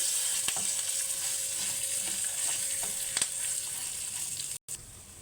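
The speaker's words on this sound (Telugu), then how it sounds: "తాలింపు వేగిపోయిందండి కమ్మట వాసన వస్తుంది" Tempering spices and cashews fry in a pan for temple-style pulihora, a constant close sizzle and crackle with a few sharp pops, briefly dropping out near the end before resuming.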